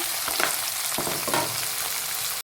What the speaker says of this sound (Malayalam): നമ്മുടെ ഉള്ളി ഇതെല്ലാം കൂടെ ഇവിടെ വഴരുന്നുണ്ട് ഇത് നല്ലതുപോലെ വഴന്നെടുക്കണം